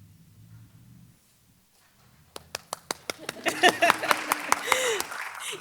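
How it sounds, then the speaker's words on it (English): Applause from an audience at a nursing awards ceremony starts as a few scattered claps after a brief pause and quickly builds into full, sustained clapping from a room of people. "If everybody can just give themselves a round of applause"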